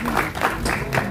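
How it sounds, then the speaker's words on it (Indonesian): A gala film premiere audience applauds, making a short burst of dense, loud clapping from a crowd close by. "Tepuk tangan sekali lagi untuk Nasya."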